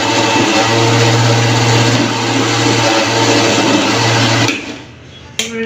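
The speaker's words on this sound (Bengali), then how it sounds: "তো ডালটাকে আমি ব্লেন্ড করে নিচ্ছি।" An electric blender purees cooked lentils (dal) with a loud, steady motor whine and a churning roar for about four seconds. It then winds down and stops.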